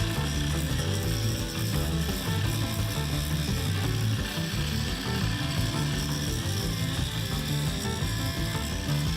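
An INTERTOOL angle grinder with a metal grinding disc grinds a metal workpiece, whirring continuously at steady speed, a dense broadband grinding noise with a low motor drone, loud and close throughout.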